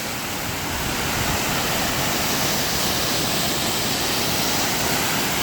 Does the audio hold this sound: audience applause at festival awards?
no